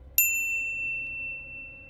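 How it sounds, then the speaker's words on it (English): A single bright notification bell ding strikes once and rings out with a clean, sustained metallic tone that slowly fades, alone and close with no voices. "ring the bell to get notified about our latest videos"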